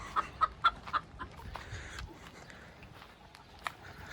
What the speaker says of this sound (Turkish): Şöyle gezelim biraz tavuklarımıza falan bakalım.